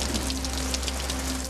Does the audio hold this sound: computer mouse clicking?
no